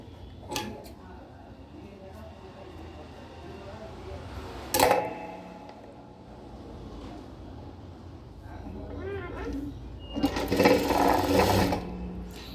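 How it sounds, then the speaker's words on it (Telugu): Sewing machine stitching a folded fabric hem for a neat finish, a soft, steady mechanical whir that swells into a louder run of stitching near the end, with a faint voice talking over it. "ఇలా మడిచి కుట్టేసేసుకుంటే మనకి ఇక్కడ అనేది నీట్ ఫినిషింగ్ కనిపిస్తుందండి"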